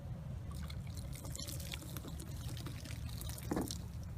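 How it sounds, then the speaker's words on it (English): Water splashes and pours steadily over a Ruger American pistol with its magazine inserted, a continuous close wash of running liquid with a brief heavier gush near the end. "I'll give it a good rinse down."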